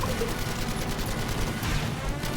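Gunfire in the war shooter Battlefield V: dense, continuous rattling shots blur into a loud, busy roar of combat with no clear gaps, up close.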